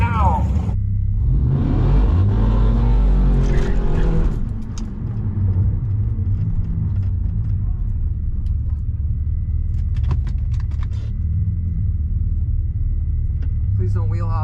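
Drag race car engine rumbling and revving near the staging lanes before a launch, a loud low drone with bursts of throttle and crowd chatter over it, with people talking close by throughout.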